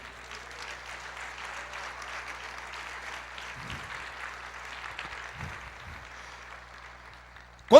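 Congregation applauding in a church, a steady broad wash of clapping at moderate distance that holds for several seconds, with a sharp louder knock right at the end.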